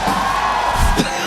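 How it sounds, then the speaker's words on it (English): A crowd cheers and yells at an MPL Malaysia esports playoff event, a loud, dense roar of voices filling a short moment. "Oh, I hear the cheering."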